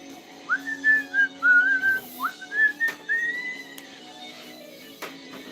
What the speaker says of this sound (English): Sorry for whistling right by the camera.